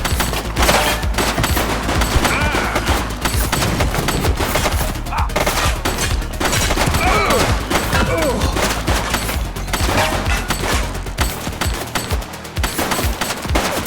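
Gunfire rattles in the police video game The Precinct during a street shootout, a loud, close, sustained fusillade of rapid automatic shots that barely lets up for the whole stretch.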